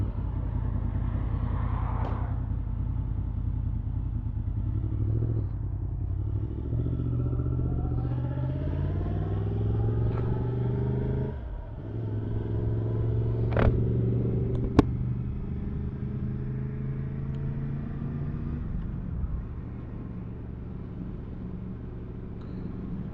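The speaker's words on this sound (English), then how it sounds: "So let's get on, let's have a little ride out this evening and see what it's all about." A motorcycle rides out in the evening, its engine rumbling steadily up close as it pulls away and shifts through rising revs, heard alone without talk.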